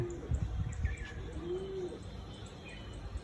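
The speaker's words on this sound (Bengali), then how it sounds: "এরা তো ভালো ওড়ার পায়রা আছে দেখছি" Pigeons bred for flying call outdoors with a faint coo and a few soft chirps over steady background hiss, distant and quiet.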